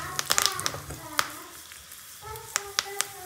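Mustard seeds and curry leaves sizzle in hot oil for a spicy star gooseberry gojju, giving a steady crackle with sharp pops and a few loud snaps, with faint background voice traces.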